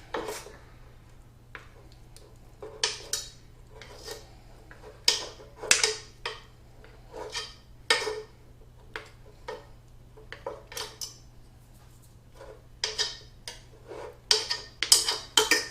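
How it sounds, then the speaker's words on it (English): A knife chopping butter into cubes on a board, sharp irregular clicks and taps in uneven clusters, close and fairly loud against a quiet kitchen background hum. "I might just speed this butter up melting a bit by just chopping it into cubes."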